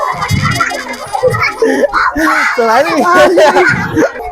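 A voice imitates a rooster crowing, with rising and falling squawky cries in quick succession, loud and close.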